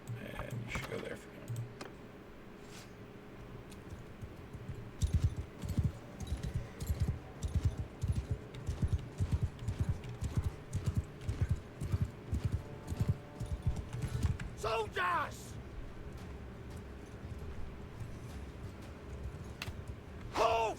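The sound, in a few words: horse hooves of cavalry in a strategy video game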